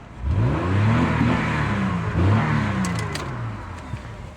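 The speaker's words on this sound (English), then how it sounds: "it has the 3-valve Triton in it, man, and it's still going" Ford Expedition with a 3-valve Triton engine and nearly 250,000 miles, revving up twice in quick swells close by, then settling back toward idle.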